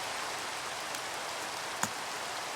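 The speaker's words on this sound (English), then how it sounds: "Rain." Steady video game rain in a Doctor Who Dalek mod hisses evenly throughout, with a couple of faint drip-like ticks poking through the wash.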